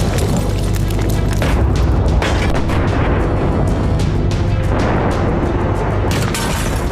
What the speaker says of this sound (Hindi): इजरायली एयरफोर्स के हमले से पूरा सीडोन शहर दहल उठा है। आग की ऊंची लपटें और हमले के बाद ब्लास्ट की आवाज कई किलोमीटर दूर तक सुनाई दी।